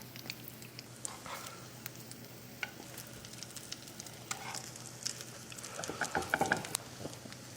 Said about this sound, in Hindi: अब हल्के हाथों से कबाब को पलट लेंगे और हमें दोनों साइड से सेकना है